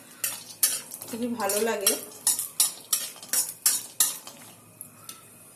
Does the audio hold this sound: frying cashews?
yes